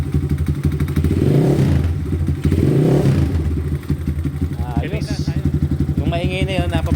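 An EGL 250 motorcycle engine idling and revving up twice, a loud, close rumble that swells and falls back, with someone talking over the engine afterward.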